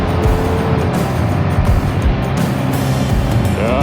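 Road traffic in the Philippines with a modern jeepney minibus nearby, a steady loud engine hum and tyre rumble heard from inside a moving vehicle, with no voices.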